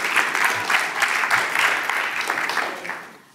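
Audience applause at a conference welcoming a speaker: steady, dense clapping from a sizable crowd, fairly loud and close, sustained for several seconds before fading out at the end.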